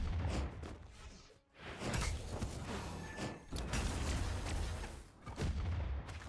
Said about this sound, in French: Pas ma faute s'il y a des explosions dans le secteur.